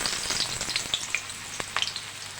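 Chopped onion drops into hot oil tempered with black cumin seeds for a Bengali potato-poppy-seed dish with drumsticks. It sets off a steady, close, loud sizzle with sharp crackles and pops throughout, and no talking.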